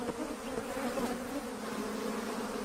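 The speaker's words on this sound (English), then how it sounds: "African honeybees have built a hive inside a nearby tree." African honeybees swarm around their hive inside a tree in the bush, a dense, continuous buzzing hum close by with no voices.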